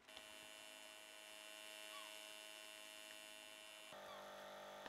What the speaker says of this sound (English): It is a very loud fridge.